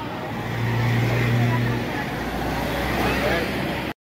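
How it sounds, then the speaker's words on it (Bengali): A car carrying the chief minister pulls away near Digha railway station, giving a steady engine and road rumble with a low hum, while a voice talks over it. "আমাদের মাননীয় মুখ্যমন্ত্রী চলে গেলেন গাড়ি করে"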